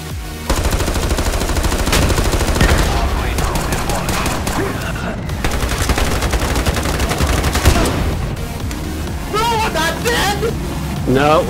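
Rapid, sustained automatic gunfire in the shooter game Ironsight rattles loudly and almost continuously, with bursts and shot echoes layered under occasional voice chatter, and a brief pause near the middle.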